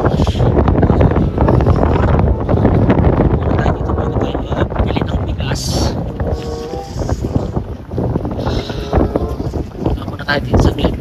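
A heavy, steady wind roar batters the microphone outdoors near a beach in a small Alberta town, loud and unbroken throughout, with a person speaking beneath the rumble.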